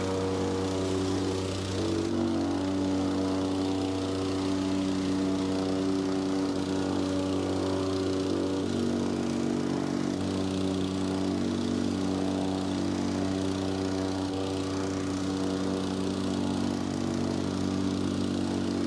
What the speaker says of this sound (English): Let's use the compactor and get this gravel ready so we can put some vapor barrier and throw our number 3 rebar down.